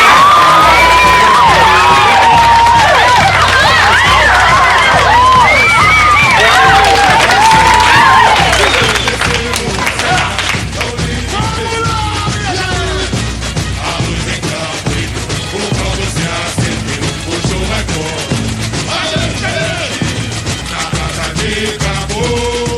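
A crowd at a 1991 Rio de Janeiro samba parade for the Viradouro school applauds, cheers and whoops loudly, with shrill voices strongest at first. The noise then settles into a dense, continuous roar.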